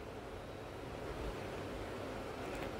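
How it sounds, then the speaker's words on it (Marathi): Chicken liver (kaleja) curry boiling in a pot, giving a soft, steady bubbling hiss that stays faint and even throughout with no voices. "भाजीला मस्त अशी उकळी फुटलेली आहे"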